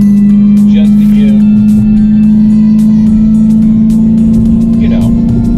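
Dodge Challenger Hellcat engine on a high-speed pull with paddle shifters: a loud, steady, deep engine drone holding one pitch throughout, heard from inside the car with brief faint voices over it.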